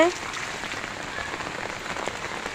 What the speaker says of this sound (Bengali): হালকা হালকা বৃষ্টি পড়ছে কিন্তু পড়েই যাচ্ছে পড়েই যাচ্ছে